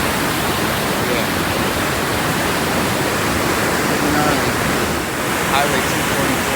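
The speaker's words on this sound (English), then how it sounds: "So this is the mighty Arkansas River." Rushing floodwater of the Arkansas River heard from the pedestrian side of the 21st Street Bridge in Tulsa, a loud, continuous broadband roar with some wind buffeting and no clear speech.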